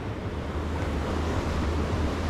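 Ocean waves break and wash up a beach at Playa del Carmen, with sargassum piled along the shore, under gusty wind. The surf is a loud, steady roar with no clear gaps between the breakers.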